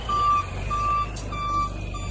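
A lorry reversing in a yard gives three steady, evenly spaced reversing beeps, each about a third of a second long. They sound clear and fairly near over a low engine rumble.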